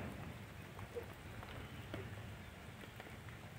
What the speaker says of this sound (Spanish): Por ahí va a salir el sol y por acá está lloviendo.